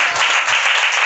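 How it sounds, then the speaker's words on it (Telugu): A church congregation claps hands together in a loud, dense burst of applause throughout. "కొట్టు, చప్పట్లు కొట్టు."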